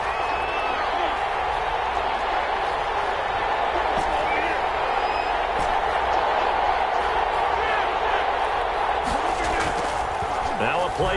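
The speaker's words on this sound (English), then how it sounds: "Crowd getting in it a bit already." Steady roar of a stadium crowd at an NFL football game, loud and continuous throughout, with a play-by-play commentator talking over it.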